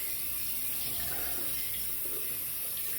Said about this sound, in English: We're gonna wet the brush with hot water.